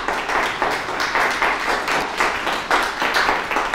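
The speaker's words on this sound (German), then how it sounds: "Hier auch nochmal einen herzlichen Applaus für einen Maler." Audience applause at a contemporary art gallery opening in Berlin, welcoming a painter; moderate clapping in a room, rising and falling in waves without talk.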